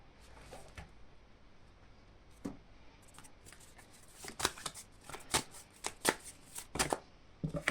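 A tarot deck being shuffled close up, starting with soft scattered card rustles and building into several crisp riffling bursts toward the end.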